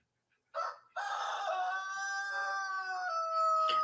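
A backyard rooster crows once, long and clear at moderate distance, after a short preceding call, with no talking.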